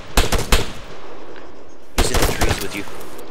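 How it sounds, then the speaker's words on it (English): Video game gunfire in two loud, close bursts of rapid automatic shots, separated by a short lull with low background noise. "What are you shooting at?"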